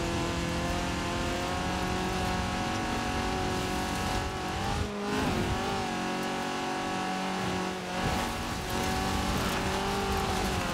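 A 1980 Fiat 124 Sport Spider drives in the racing game Forza Horizon 4: a loud, continuous engine roar, with brief dips in pitch at gear changes and a slight squeal of drifting tires, no talking.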